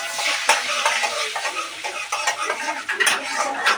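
Whole spices, cinnamon, bay leaf, cloves, green and black cardamom and peppercorns, fry in a pan for paneer butter masala, a close sizzle broken by scraping stirs and light utensil clicks against the pan.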